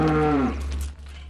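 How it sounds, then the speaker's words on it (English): A cow near Zugspitze lets out a single loud, close moo that slides downward in pitch, then a low rumble lingers afterward. "we stopped to shoot some video of, you guessed it, those cows"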